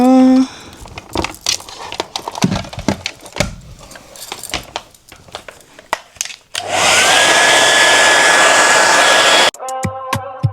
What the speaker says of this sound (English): we're just gonna blow dry it now